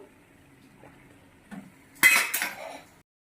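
A metal spoon clinks against a pot as tea powder goes into just-boiled water, a short burst of scraping and clinking after quiet with a faint earlier tap.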